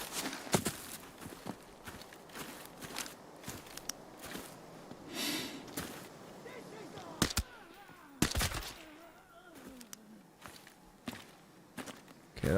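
Gunfire during a raid in a shooter video game, scattered sharp shots and short bursts of varying distance over footstep-like shuffling and movement, with some quieter stretches between the reports.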